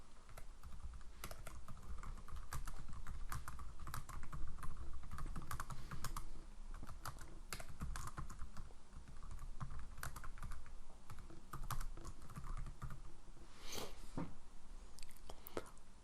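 A student email address is typed on a computer keyboard, producing a rapid, uneven stream of close, crisp key clicks with brief pauses, steady and moderately quiet, without talk.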